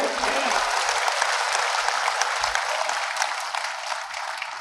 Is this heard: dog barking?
no